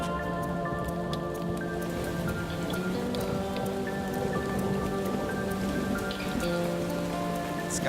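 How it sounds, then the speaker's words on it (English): Rain starts falling in the woods, a steady patter of drops striking leaves and surfaces close around, with scattered distinct drips over a constant hiss and a faint low tonal hum beneath. "It's starting to rain, and it's not good, not good."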